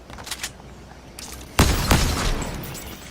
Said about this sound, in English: Ooh, he has that explosive gun.